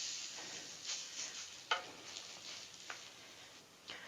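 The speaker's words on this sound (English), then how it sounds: "You can see the ghee is getting quieter and quieter and quieter" Ghee frying in a pan in a home kitchen gives a soft, steady crackling sizzle, quiet and fairly even, with a few sharper pops and ticks scattered through.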